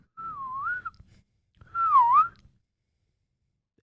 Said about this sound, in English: I whistle on the N